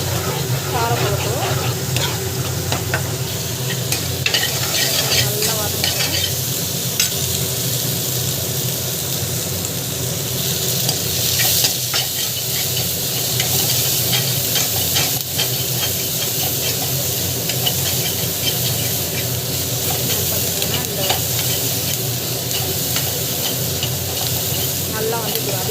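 Onions sautéing in a pan: a loud, steady hissing sizzle that continues unbroken, with occasional faint scrapes of stirring, heard close up and with no speech.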